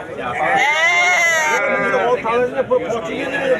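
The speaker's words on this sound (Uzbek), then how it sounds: "Ona bola qo'ylar." A ewe and her lamb bleat loudly and repeatedly at close range, overlapping with a busy background of voices and chatter at the Sirdaryo livestock market.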